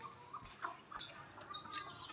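Soft, scattered clucks and high chirps from an Aseel hen and small chicks, fairly quiet and close, with no voices.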